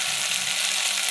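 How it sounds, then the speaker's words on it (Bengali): Raw spices fry in a pan with a dense, steady sizzle, close and continuous, with no voices over it. "কাঁচা মশলা ভাজা হয়ে গেছে"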